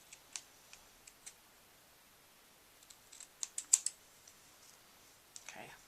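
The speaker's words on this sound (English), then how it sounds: "I think I'll just trim this up a little bit to give us a nice cut on our edges." Scissors trimming the edges of paper for a stamping craft project, a scattering of light snips and clicks spaced across the clip, with a quick cluster of sharper cuts in the middle, close and fairly quiet.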